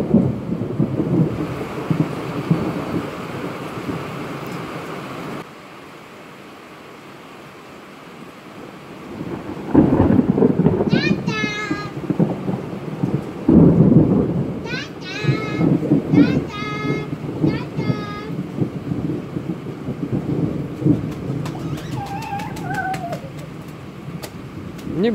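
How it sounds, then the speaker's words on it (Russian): Thunder rumbles loudly through a southern rainstorm over steady rain, with deep rolling booms that swell and fade and a few chirping birds in the background. "Опять сверкануло, сейчас жахнет."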